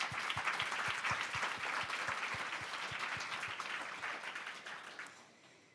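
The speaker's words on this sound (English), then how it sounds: "I think that deserves a round of applause for our farmers." A conference audience gives a round of applause, with a few distinct claps standing out in the low range. The clapping holds steady, then fades out toward the end.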